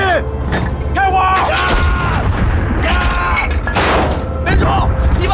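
Cannon fire in a snowy-field gunfight action movie: repeated heavy booms and mechanical clanks over a dense, loud battle soundtrack with music, continuous throughout.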